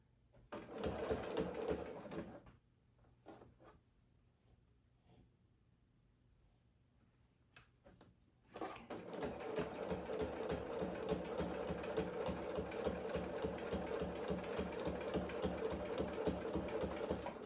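A sewing machine stitches oven mitt fabric in a short buzzing run, pauses for several quiet seconds, then hums steadily and rapidly through a long continuous seam at close range.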